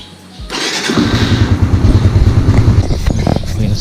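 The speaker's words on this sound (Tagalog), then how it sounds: "So, start na natin yung motor." A Raider R150 FI motorcycle engine cranks, catches and settles into a loud, close, steady idle with a fast pulsing beat.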